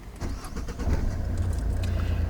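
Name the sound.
car engine starting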